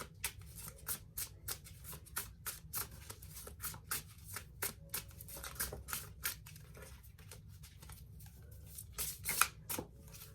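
Tarot cards being shuffled and drawn by hand: a quiet, steady run of crisp riffling snaps and soft card slaps, close up, with no talking.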